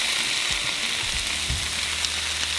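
Pork cooking in a cast iron pan for al pastor tacos, giving a steady, close hiss of frying with a few soft low knocks from the pan, with no talking.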